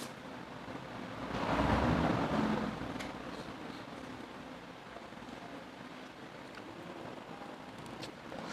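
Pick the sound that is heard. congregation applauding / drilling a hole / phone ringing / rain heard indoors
rain heard indoors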